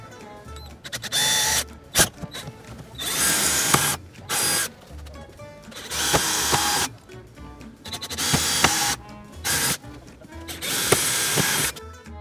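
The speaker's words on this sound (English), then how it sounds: "Always a bit nervous when you're drilling into your car." A power drill bores into the body of a Land Rover Defender while a spare wheel carrier is fitted, with several loud bursts of high whining drilling separated by short pauses.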